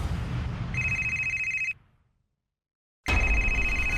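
A telephone rings with a steady electronic bell tone in two bursts, separated by a pause of silence, loud and close with no voices.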